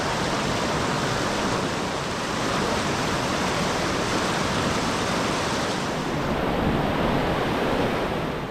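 Rushing river water at a crossing of the Da'an River in Taiwan: a loud, steady, broadband roar that stays close and continuous throughout, with no voices.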